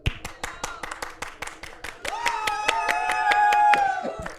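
Steady rhythmic handclaps from a small group ring out through a Legend of Zelda: Majora's Mask speedrun broadcast, sharp and evenly spaced, with a sustained musical tone rising underneath halfway through.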